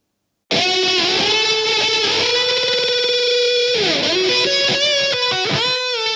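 Layered synth parts spread wide in stereo with a short slap delay, a dense sustained harmonic chord that shifts pitch midway, with swooping dips near the end, loud and continuous with no talking.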